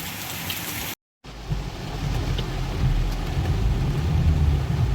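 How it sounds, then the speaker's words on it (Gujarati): Heavy rain pours steadily in Porbandar, heard from a vehicle with wipers at full speed, a loud continuous hiss with a low rumbling drumming underneath, briefly cut by a moment of silence near the start. "જો દોસ્તો કેવો વરસાદ આવી રહ્યો છે, ધમાકેદાર."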